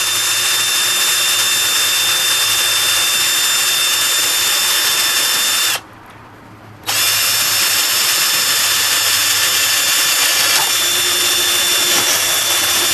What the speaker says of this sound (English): We're going to do our drilling right here.